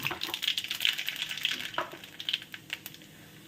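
Nigella seeds sizzling in leftover fish-frying oil in a pan, a crackling, popping fry with bursts of bright spitting that settle toward the end, no talk.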